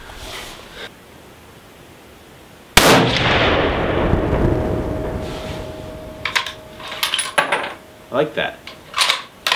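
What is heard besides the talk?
working the bolt action of a Savage Axis hunting rifle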